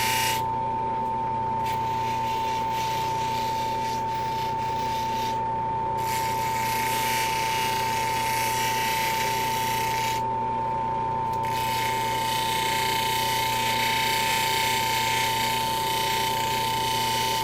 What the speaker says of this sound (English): So these wheels are mostly just for shaping.